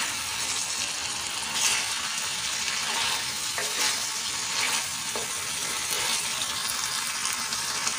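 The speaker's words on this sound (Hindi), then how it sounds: "ये इस तरह से करते जाएंगे और इसे अच्छे से भून लेंगे।" Beef keema sizzles and fries on a tawa, a steady crackling hiss with occasional stirring scrapes, close and continuous throughout.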